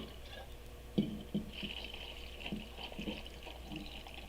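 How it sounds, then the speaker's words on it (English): A shaken Mai Tai mixture is poured into a glass, giving a faint, brief liquid splash and trickle with a few small clinks, close by and without talk. "So you pour the mixture that you just shook into your glass."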